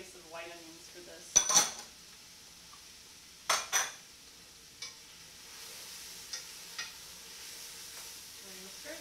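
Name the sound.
stirring cabbage and green onions in a pot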